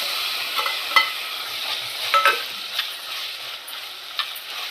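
Ginger and garlic frying in a pan for a mutton curry, a steady close sizzle with light stirring scrapes and a few sharp spatula clicks, no voices.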